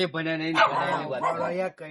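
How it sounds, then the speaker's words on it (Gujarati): A dog barks and yips in a few quick bursts, loud and close, blended with a voice talking. "કૂતરું જબરજસ્ત લાયો કઈડે બૈડે નહીં"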